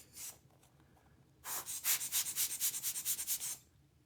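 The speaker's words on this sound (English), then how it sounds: "So that's the Giotto's rocket air blower." A Giotto's Rocket-Air hand blower gives a burst of about a dozen rapid, evenly spaced airy puffs at close range, preceded by one short puff, with no talking.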